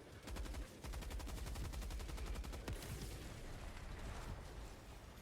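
Mortars and gunfire in the video game Helldivers 2 pound in a rapid, evenly spaced burst of loud blasts. A dense rumbling wash of explosions follows.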